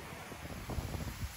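Wind blusters across the microphone in a low, continuous rumble with soft gusts, fairly quiet, no voices heard.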